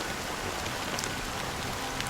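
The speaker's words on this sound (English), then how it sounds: "But it's still raining" Steady rain falling in the video game Honkai Star Rail, a dense continuous hiss with faint scattered drip ticks, no voices.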